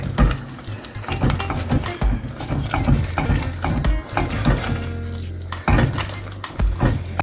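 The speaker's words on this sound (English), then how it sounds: "Now we stir this." A pot of Jamaican salt mackerel rundown is stirred with a utensil, giving close, repeated scraping and clinking strokes against the pot over a low bubbling background.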